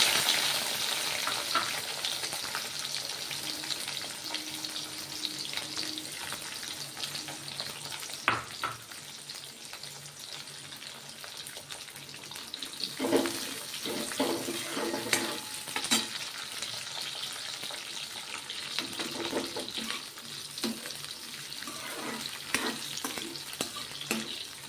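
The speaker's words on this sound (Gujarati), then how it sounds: "સૌપ્રથમ કેપ્સિકમ અને ડુંગળીને ફ્રાય કરી લેશું" Chopped capsicum and onion fry in hot oil, a steady loud sizzle with occasional stirring scrapes and clinks of a utensil in the pan; no one speaks.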